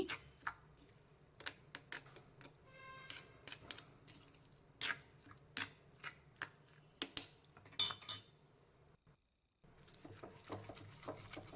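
Raw mango chutney being ground by hand in a stone mortar, with sharp irregular knocks and scraping clicks of the pestle, sparse and close, no talk.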